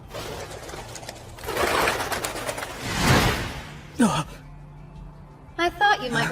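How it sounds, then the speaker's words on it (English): Messenger pigeons in an anime scene coo and flutter with a few soft, breathy calls, mixed with rustling ambience and a brief gasp-like sound before quiet. "release your messenger pigeons in the early morning?"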